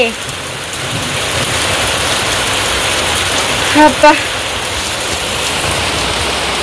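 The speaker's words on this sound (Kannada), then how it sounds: "ನಮ್ಮನೆ ಹತ್ರ ಮಳೆ ಬರ್ತಿದೆ ಜೋರಾಗಿ" Heavy rain pours in a dense, steady hiss throughout, with a brief spoken word near the end.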